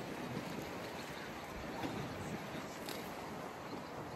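Strong wind buffets the shore at Porteau Cove in Squamish, British Columbia, a loud, continuous roaring rush with gusty swells and no speech over it.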